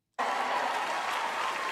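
Loud, sustained crowd applause with cheering from a large audience at a live event, starting abruptly after a brief silence and holding steady throughout.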